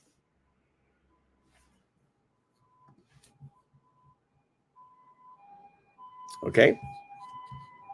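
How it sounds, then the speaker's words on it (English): An ambulance siren passes a house, heard faintly at first and swelling to a loud wail as it goes by, with brief spoken words over it. "we got an ambulance going by my house."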